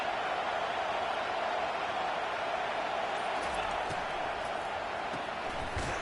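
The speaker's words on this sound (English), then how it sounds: "It is getting loud as this crowd tries to help its defense." Stadium crowd noise in a football video game roars as a constant, dense wash of sound, loud and even throughout, with faint thuds near the end.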